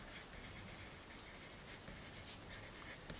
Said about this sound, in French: je vais vous noter ça sur un papier, par là-dessus